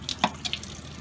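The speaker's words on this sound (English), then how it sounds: "Oh yeah, here's the fresh water." Fresh water runs from a newly installed reverse osmosis unit's line, a faint thin trickle with a few brief splashy bursts, close by and without talk.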